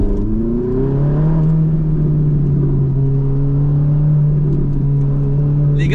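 Ferrari 458 Italia V8 revving hard toward high rpm, a loud, sustained engine wail with rising, steady harmonic tones heard from inside the car, with no talking.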